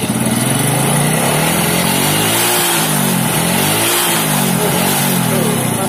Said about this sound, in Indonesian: Ini mesin sudah bagus.